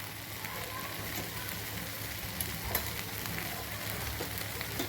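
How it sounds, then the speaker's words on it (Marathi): Onion-tomato masala for chole cooks in oil in a pan, giving off a steady, close sizzling hiss with a few faint clinks of a spoon against the pan. "आता आपला मसाला शिजत आहे।"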